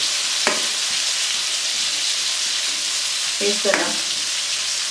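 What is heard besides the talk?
stuffed eggplant frying and sizzling in a pan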